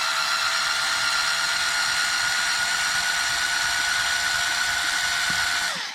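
A power driver whines steadily while backing a long screw out of the top of a Traxxas Maxx RC car, a close, continuous high-pitched motor tone that winds down at the end.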